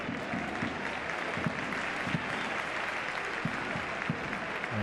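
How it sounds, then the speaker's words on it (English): Home football fans applauding an injured player walking off the pitch, a broad wash of stadium clapping with scattered sharper claps standing out, steady and crowd-wide throughout. "And Datkovic gets a round of applause by the home fans as he walks off that little knock."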